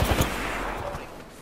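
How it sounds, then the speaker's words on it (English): Gunfire in the battle royale game Apex Legends: a quick volley of sharp, loud shots at the start, then a fading reverberant wash. "I am taking fire, friends."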